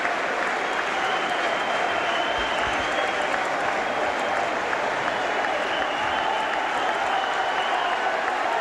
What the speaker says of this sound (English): Warrington players now get a round of applause from the main bunch of Warrington supporters in the main stand